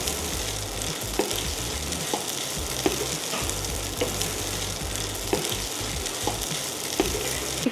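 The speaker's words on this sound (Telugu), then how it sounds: "ఒక 2 to 3 minutes పాటుగా ఫ్రై చేసుకొని 1 bowl ఆఫ్ రైస్ని యాడ్ చేసుకోవాలి" Mango pieces frying in a pan with turmeric and salt, a continuous close sizzle with scattered sharp crackles and occasional stirring scrapes throughout.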